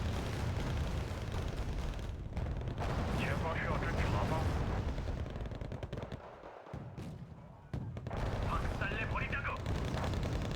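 Tank cannon in a tank video game firing in quick succession, heavy booming blasts and rumbling bursts that come one after another under constant game noise, with a brief quieter lull partway through.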